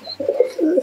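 A young male pigeon coos close by, a few soft low throaty pulses running together across under a second, clear and alone.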